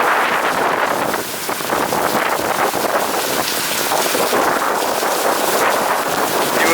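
Strong tropical storm wind during Tropical Storm Imelda in Houston, with flooding and rain, roars steadily and loudly across the microphone as a constant broadband gusting rush with no speech.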